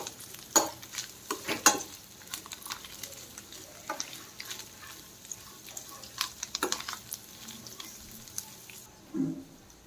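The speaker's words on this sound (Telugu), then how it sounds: "నేతిలో వేపుకుంటే టేస్ట్ బాగుంటుంది" Ingredients for aradi prasadam fry in hot ghee with a gentle, uneven sizzle, punctuated by sharp spoon scrapes and stirring clatter, fairly quiet throughout with no voices.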